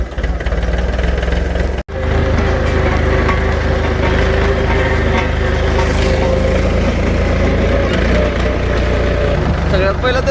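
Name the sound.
tractor towing a galvanized pipe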